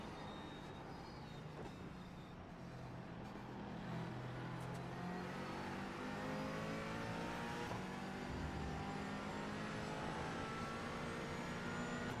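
McLaren 570S GT4 race car engine in iRacing at Daytona, a loud sustained drone with rising and falling gear-change sweeps, heard alone without talk.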